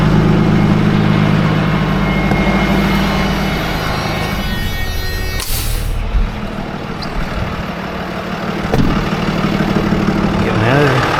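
A truck engine idling nearby with a loud, steady low rumble, shifting slightly midway and then settling back into a constant drone.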